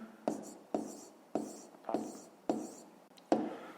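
Pen or marker strokes on a surface in a math lesson, six crisp scratchy bursts at a steady, roughly half-second rhythm, close and fairly quiet with no talking.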